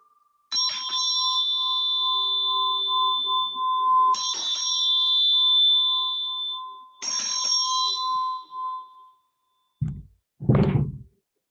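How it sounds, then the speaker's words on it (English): A meditation bell is struck three times in a slow sequence, each strike ringing with a bright, sustained tone that hangs in the air before the next, followed by a couple of brief muffled knocks at the end. "So I'm going to ring the bell"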